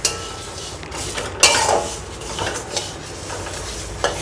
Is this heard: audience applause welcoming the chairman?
no